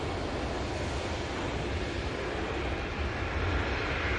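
A passenger airplane takes off from an airport runway with a loud, steady roar of jet engines that fills the whole stretch evenly and does not fade.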